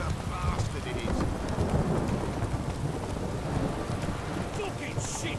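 Thunder rumbles heavily beneath a continuous downpour in The Witcher 3, the storm loud and close, rain hissing steadily on surfaces the whole time.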